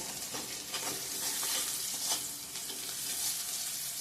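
Onions sizzling and frying in a pan, a steady bright crackle with occasional stirring scrapes, close and continuous with no talk.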